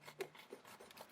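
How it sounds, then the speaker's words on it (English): A ruler drawn back and forth in a sawing motion scrapes excess compost level across a seed tray, giving a faint, close, gritty rasping in short strokes. "with a sawing action, I'm going to take that excess soil that way"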